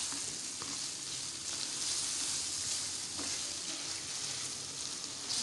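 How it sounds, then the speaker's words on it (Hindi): Chicken pieces frying with ginger-garlic paste for a chicken karela dish sizzle steadily and loudly throughout, with a few faint stirring scrapes and no talking. "2 मिनट हम अदरक और लहसुन के पेस्ट के साथ इसको अच्छी तरह भून लेंगे।"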